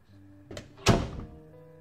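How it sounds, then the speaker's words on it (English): A door in a house-themed video game gives a faint knock and then a solid, heavy thunk that lingers briefly over a quiet ambient game background. "Why does that sound like the door opens, but it doesn't actually open?"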